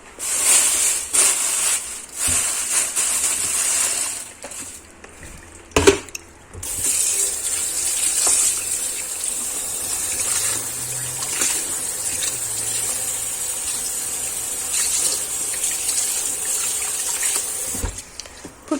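Tap water runs over raw meat in a kitchen sink to rinse it. The loud, steady flow continues close by, broken by a couple of short pauses and a few clunks, with no talk.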